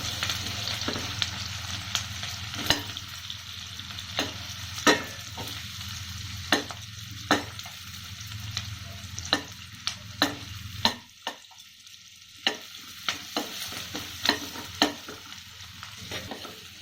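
Onion sizzles with garlic cloves in a pan for keto palak cream soup, a steady frying hiss broken by regular sharp scrapes and clacks of a spoon stirring, the hiss dropping away near the end while the stirring knocks continue.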